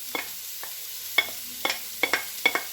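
Lardons fry in a pan with onions under a soft, constant sizzle, broken by sharp scraping clicks of a utensil stirring them at uneven intervals, close and clear.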